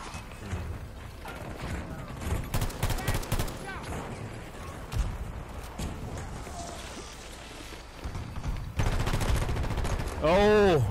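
Battlefield 2042 gunfire during a crowded multiplayer match at the Year of the Dragon event, with bursts of automatic fire and single shots crackling throughout and a voice talking over the shooting.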